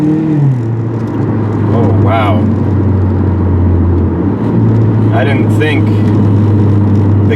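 A 2009-up Mitsubishi Lancer Ralliart with a DC Sports single-exit catback exhaust heard from inside the cabin, a loud steady low engine drone that drops briefly around a shift and then resumes, with people talking throughout.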